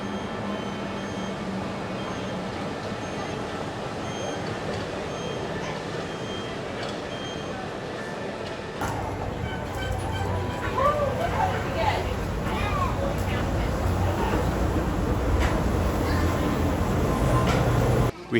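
Disney monorail at Epcot rolling along its loop past Test Track construction, a steady loud rumble and whine of the train that swells and brightens partway through, continuous from start to end.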